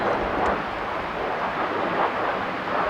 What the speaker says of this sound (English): there's a jet up there going to San Francisco Airport.